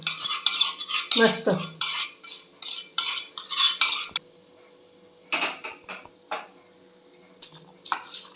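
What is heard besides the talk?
sizzling tempering (phodni) being stirred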